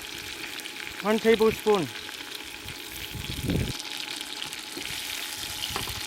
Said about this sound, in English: you have to kind of fry them up a little bit to get the taste, get the flavor to it